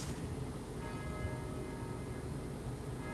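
Lutheran church bells in a historic township ring the hour, a sustained tolling tone drifting over a steady outdoor rumble, moderately distant and fairly faint, with no voices.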